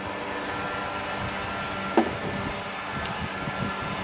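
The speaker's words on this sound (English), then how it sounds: "Sorry about the noise back here. Somebody's cutting the grass." A steady engine drone runs throughout, like a lawn mower working nearby, with a brief sharp knock midway.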